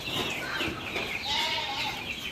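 Chickens cluck and call continuously in a poultry coop, close and fairly loud, with overlapping hen voices throughout.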